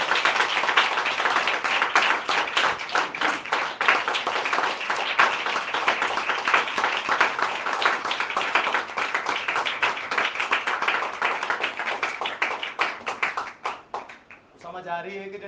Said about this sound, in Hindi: यीशु के कलाम के लिए ठंडी नहीं, जोरदार तालियां